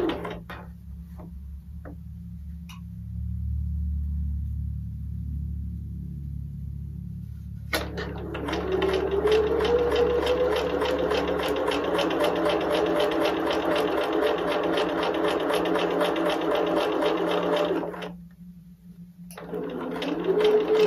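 A sewing machine stitches bias binding around a cord in a steady, loud mechanical whir with a rapid needle rhythm, close up, running for about ten seconds before stopping briefly and starting again, with a low background hum throughout.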